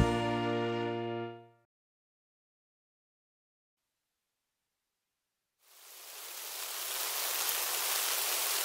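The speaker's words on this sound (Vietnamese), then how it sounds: "Ôi trời mưa." Steady rain hisses across the whole sound after a short musical tone ends and a few seconds of silence pass, a broad wash of falling rain in a children's nursery rhyme cartoon.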